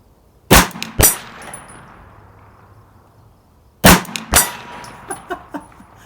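9mm rounds striking steel spinner targets: two sharp metallic clangs, a pause of nearly three seconds, then two more clangs followed by several fainter rattling pings as the targets swing, heard from a distance.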